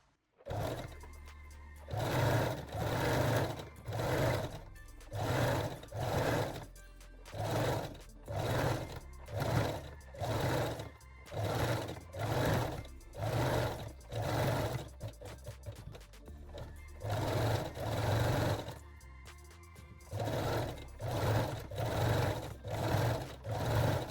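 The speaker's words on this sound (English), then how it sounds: "Now set your machine to zigzag or 3-step zigzag stitch, and we will finish both leg openings with fold over elastic." Sewing machine running a zigzag stitch to sew fold over elastic onto panty leg openings, fairly faint bursts of rapid mechanical whirring in short, regular runs separated by brief pauses.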